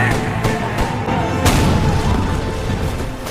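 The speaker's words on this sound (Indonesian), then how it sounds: "Namun meriam didentumkan, jembatan pun hancur." A cannon booms in a war battle scene as a bridge is destroyed, a dense rumbling roar with sharp bursts cutting through a loud, continuous low-end blast, no voices present.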